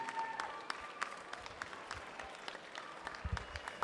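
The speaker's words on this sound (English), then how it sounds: "That deserves a cheer and a clap as she comes down this final bit." Spectators at a swimming meet clap and cheer for a swimmer finishing the 200 m butterfly, a steady patter of applause from a crowd in an echoing indoor pool hall.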